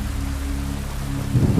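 Steady rain hisses with a low, constant rumble underneath, growing slightly heavier and rougher toward the end.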